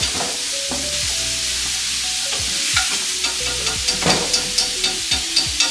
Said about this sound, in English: you don't need no oil for no ground beef, cause beef make its own grease